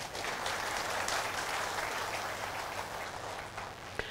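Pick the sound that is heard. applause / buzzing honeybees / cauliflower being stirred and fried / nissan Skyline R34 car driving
applause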